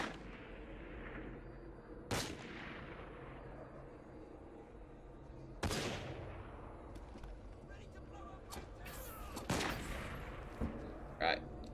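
Sporadic gunfire in Assassin's Creed Syndicate, a few sharp shots ringing out at moderate distance over a steady background of game ambience, spaced irregularly rather than in sustained bursts.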